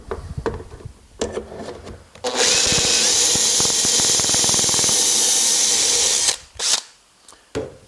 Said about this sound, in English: I'm going to drill that first hole here